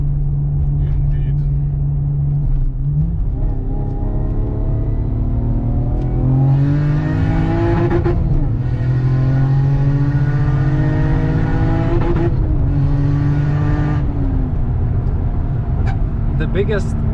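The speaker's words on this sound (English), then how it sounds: "Now we're gonna safely accelerate to the allowed speed limit." A turbocharged Lexus IS200 with an upgraded exhaust accelerates hard, its engine note climbing through several gears in long rising sweeps, close and loud, while people talk over it.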